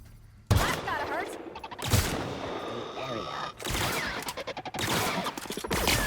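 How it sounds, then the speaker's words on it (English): Rifle gunfire in the sci-fi video game The Outer Worlds, loud rapid bursts of automatic shots in several volleys with brief gaps, amid game combat effects. "Yeah, this rifle's doing a good job."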